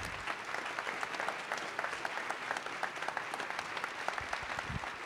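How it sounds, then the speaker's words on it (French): Steady applause from a conference audience at a cybersecurity event's closing ceremony, many hands clapping evenly for the whole stretch, fairly close and alone with no talk. "un gros applaudissement pour nos partenaires"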